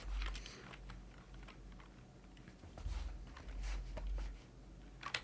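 Typing on a computer keyboard with wide keys gives faint, quick clicking keystrokes in short irregular bursts, distant and low in level, with no talking.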